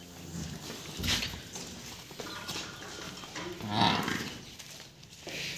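A Haryana buffalo lows a couple of times at a moderate distance, with deep drawn-out calls over faint farmyard background noise.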